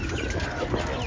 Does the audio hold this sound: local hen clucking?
yes